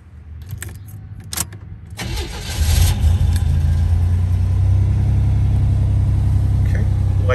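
Keys jangle briefly, then the 1987 Buick Grand National engine cranks and catches, settling into a steady, close, rumbling idle that fills the rest of the clip.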